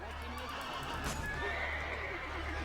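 A horse neighs and whinnies in Assassin's Creed Brotherhood, a fairly quiet call over the game's busy background noise, with hooves clip-clopping and a steady low rumble underneath.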